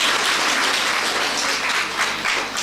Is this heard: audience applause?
yes